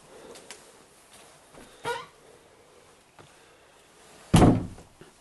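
A hidden bookshelf door in a house, leading to a bonus room above the garage, swings shut with a single heavy thunk after a few faint knocks and a soft creak.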